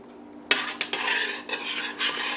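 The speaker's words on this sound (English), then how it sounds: "And stir up some of that fond." A utensil stirs stew beef around a pressure cooker pot, scraping and clinking against the metal in several close, distinct strokes, with a faint sizzle underneath.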